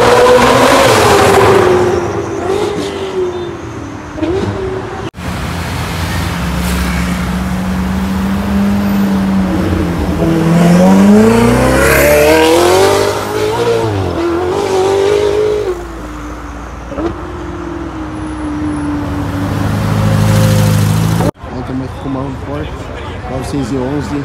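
A yellow Lamborghini Aventador S starts up and revs on a street in Brazil, loud rising and falling engine roars with crackling overrun, while someone speaks over it.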